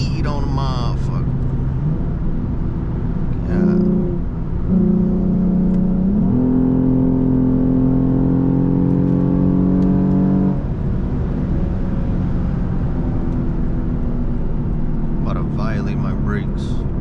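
Lexus IS350 with full bolt-ons and a tune, heard from inside on a late-night drive as it accelerates hard toward top speed, engine note climbing through gears into a steady loud drone, with voices at the start.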